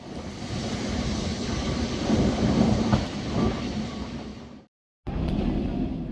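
Lisbon's tram 28 running along its rails, heard from the rear of the car as a continuous loud rumble and rattle that swells midway, cuts out briefly near the end, then resumes.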